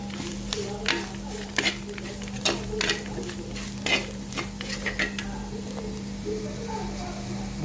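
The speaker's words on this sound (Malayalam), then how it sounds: "മുളക് പൊടി, മല്ലിപ്പൊടി, കാശ്മീരി, അതുപോലെ മഞ്ഞൾപ്പൊടി, ഇത്രയും സാധനം ഇട്ടിട്ട് നന്നായി ഇളക്കി അങ്ങോട്ട് മൂപ്പിക്കാം" Chili powder, coriander powder, Kashmiri chili and turmeric are stirred and roasted in a pan for a Kerala fish curry, with irregular scraping and clinking of a spoon against the pan over a faint sizzle and a steady background hum.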